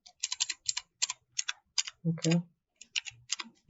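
Quick bursts of typing on a computer keyboard, irregular clusters of crisp key clicks with brief pauses, close by, while a person speaks briefly in between.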